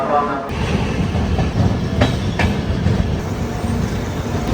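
Steady rumble of a passenger train rolling along rails near Vijayawada, with a couple of brief metallic clanks; a voice murmurs faintly in the background.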